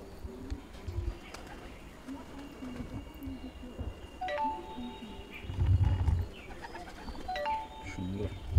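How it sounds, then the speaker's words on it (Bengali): Pigeons from a hobbyist's loft coo repeatedly at close range, soft rolling calls recurring through the stretch with low background hum and occasional handling noise. "আর একটা পায়রা দেখাচ্ছি বন্ধুরা"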